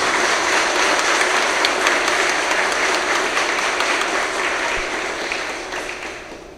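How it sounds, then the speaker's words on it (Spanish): A large crowd at a Judicial Branch ceremony honoring Congress applauds in a loud, dense, sustained burst that gradually fades toward the end. "pido un aplauso para todos los trabajadores del Poder Judicial"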